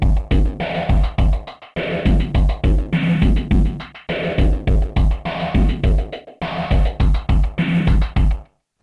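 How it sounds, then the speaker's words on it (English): A drum beat from an AdrenaLinn II pedal, processed through amp modeling, filter effects and delay, plays a loud, steady looping pattern of punchy kicks and bright hits that repeats in regular phrases, alone without talk. "the internal drum beat is routed internally through the amp modeling, the filter effects, and the delay to get sounds like this."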